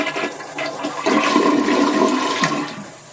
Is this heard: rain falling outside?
no